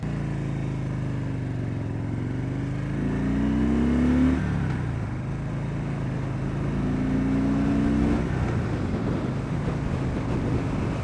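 Harley-Davidson FXDB motorcycle engine chugs and runs rough while riding, a continuous low rumble with shifting pitch heard under heavy wind buffeting on the microphone.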